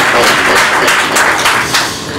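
An audience claps for an arriving guest at a certificate ceremony held by the Ethiopian ambassador in Uganda, steady loud applause from a hall crowd, close and continuous.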